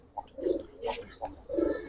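Several soft, throaty coos from Giribaz pigeons in short bursts, close by, with brief pauses between them and no talking.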